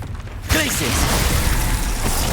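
Glacius ice spell in the video game Hogwarts Legacy: a sudden loud burst breaks in after brief quiet, then crackling, crunching freezing effects with swooping tones continue densely to the end.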